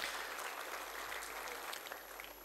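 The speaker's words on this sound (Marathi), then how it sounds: "आपण पुन्हा एकदा जोरदार टाळ्या वाजवून मॅडमचं अभिनंदन करूया" Audience applause at a university foundation day ceremony honouring a retired lieutenant general, steady dense clapping lasting throughout at a moderate, slightly distant level.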